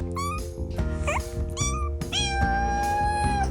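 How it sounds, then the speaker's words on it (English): A young kitten gives a run of squeaky, high meows, several short calls then a longer drawn-out one, close and clear with no talking. "One of my favorite things about Kermit was his squeaky meows."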